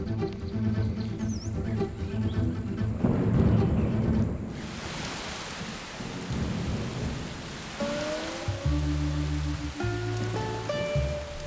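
Summer rain falls steadily in Beijing during a sudden downpour, hissing on surfaces with distant rumbles of thunder, while a music score plays over it and no one speaks.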